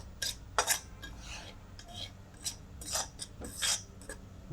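A knife chops onion finely on a board, irregular clusters of crisp cuts and taps, fairly close and quiet, for a vegetarian shami kebab.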